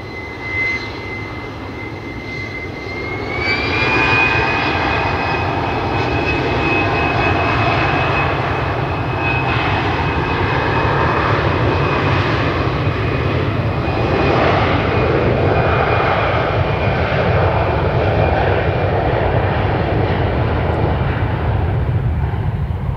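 An Alliance Airlines jet departs from runway 03, its engines spooling up after a few seconds into a loud, sustained roar with a rising whine that holds steady through the rest of the takeoff.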